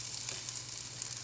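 Ginger and onions sautéing in a pan give a steady, soft sizzle, faint and continuous with no talking.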